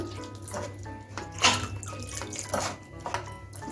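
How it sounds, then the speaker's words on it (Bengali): Cooked sago is rinsed under cold water in a kitchen, a steady close running-water hiss with sloshing and splashing surges throughout. "এখন আমি ঠান্ডা জল দিয়ে সাবুটা ধুয়ে নিচ্ছি"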